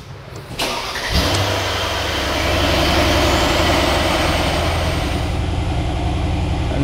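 A 2019 Mercedes GLE 500 Guard with a 4.6-liter V8 starts up. A short starter crank catches into a loud, close engine that settles into a steady idle, with no talking.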